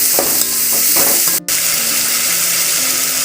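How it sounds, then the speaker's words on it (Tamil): Chopped tomatoes sauté in hot oil for a Tamil dry fish curry (karuvattu kuzhambu), producing a loud, close, continuous sizzle with stirring scrapes and one brief break midway. "இதையும் ஒரு 2 நிமிஷம் நம்ம நல்லா வதக்கிக்கலாம்"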